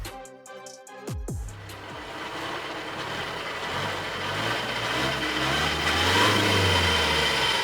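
A 2019 Audi Q3 diesel engine with turbo underboost idles after a brief start, settling into a steady, rough mid-pitched hum with a faint uneven whine, loud and close, no talking.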